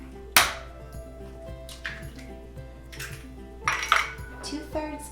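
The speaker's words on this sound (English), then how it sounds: "In a separate bowl, beat up 2 eggs" Two eggs beaten in a separate bowl while making sourdough cinnamon rolls: a whisk or utensil clinks and taps against the bowl in an irregular rhythm, close by and moderately quiet, with a few sharper knocks.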